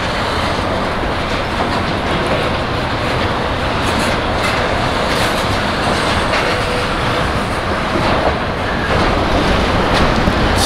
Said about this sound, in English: these trains slow down quite a bit right around in this area